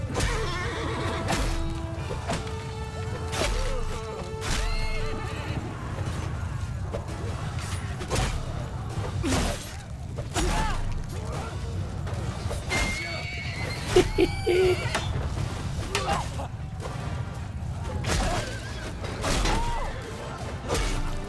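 Horses neigh and whinny repeatedly during a Mount & Blade II Bannerlord battle, with hoofbeats, clattering combat and whooshing swings in a busy mix, alongside bursts of talking.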